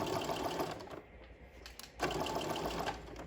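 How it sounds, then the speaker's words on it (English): A sewing machine stitches straight over gathered fabric, with back stitching at the start and end. Its loud, steady whirring buzz eases briefly in the middle and then resumes at full pace. "you're going to stitch right over those gathers"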